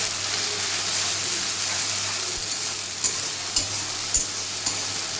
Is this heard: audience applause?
no